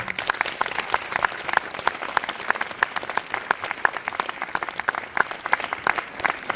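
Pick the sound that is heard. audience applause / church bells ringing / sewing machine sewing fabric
audience applause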